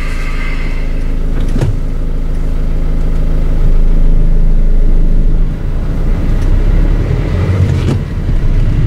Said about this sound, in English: I switch to program number 0 and restart the dyno last time.